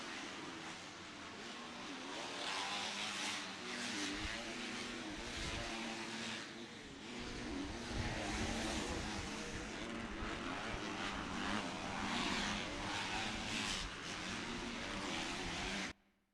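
Race cars at the Cal Classic speed past on the first lap, a continuous loud roar of several engines revving and droning from a distance, swelling and fading as the pack goes by.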